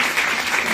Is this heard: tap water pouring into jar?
no